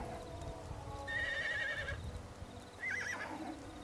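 A horse in the video game Secret World Legends lets out two whinnies, a longer wavering neigh followed by a shorter one, moderately loud over a low game ambience.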